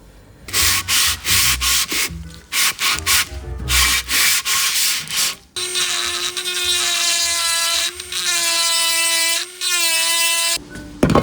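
Rhythmic abrasive sanding strokes scrape back and forth on a metal part of a vintage Moto Guzzi Le Mans Mk1 motorcycle, followed by a sustained whining power sander grinding steadily, loud and close.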